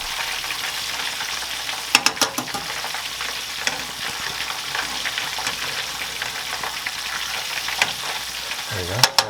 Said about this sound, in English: these have been frying here for about 11 minutes or so